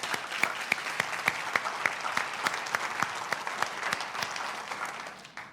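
An audience applauds a school director at a talk, steady clapping from a room full of people that holds for several seconds before tapering off.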